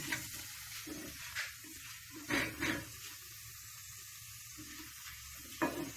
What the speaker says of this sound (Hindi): गोल्डन ब्राउन होने तक इसे हम थोड़ा सा फ्राई करेंगे।